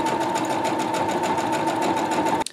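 A sewing machine runs at a fast, steady clatter, close and loud, then stops abruptly near the end.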